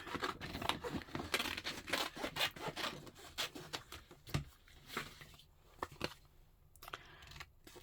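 Scissors cut through dark green paper at close range in a steady run of rasping snips and rustles, quieter toward the end, with no talking.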